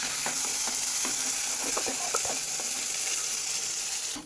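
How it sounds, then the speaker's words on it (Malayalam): Fenugreek, ginger, garlic, green chili and curry leaves frying in hot oil, a steady loud sizzle with scattered clinks and scrapes of stirring, no voices. "ഉലുവ ഇടുക, കൂടെ തന്നെ ഇഞ്ചി, വെളുത്തുള്ളി, പച്ചമുളക്, വേപ്പില, ഇത്രയും നമുക്കിടാം."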